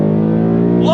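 A 2023 Ford Mustang GT California Special's V8 pulls hard on throttle with a loud, steady, close-up engine drone that starts to climb in pitch right at the end.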